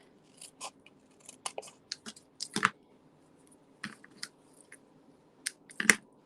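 Scissors cut paper straight across during a stamping craft project, giving a series of close, crisp snips in irregular bursts with short quiet gaps between them.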